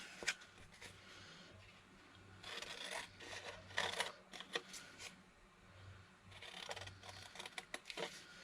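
Scissors cut around paper to make journal ephemera, giving soft rasping snips that come in irregular bursts. The sound is close and quiet, with pauses between runs of cutting and no talking.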